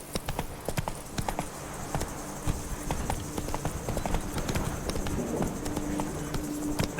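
Roach, Geralt's horse in The Witcher 3, galloping with steady, rapid clip-clop hoofbeats at close range, a continuous rhythmic pounding with no talk over it.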